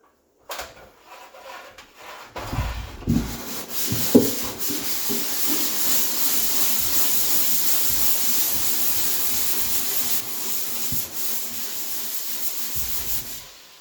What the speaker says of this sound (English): So you'll see after I've sanded it a little while, I'm sliding my hand over it